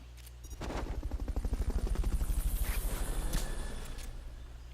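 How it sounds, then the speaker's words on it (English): A helicopter in the video game Metal Gear Solid: Peace Walker thumps with a fast, steady rotor chop that swells in and then fades, alone with no talk. "recovery subject confirmed onboard helicopter"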